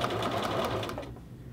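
A sewing machine runs in a quick, steady burst while stitching bias tape along a hoodie neck facing, then stops abruptly after about a second.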